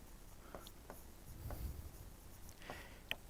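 Chalk or marker strokes on a board during a chemistry lesson, faint and scratchy, come in a few short, separate marks in a quiet room.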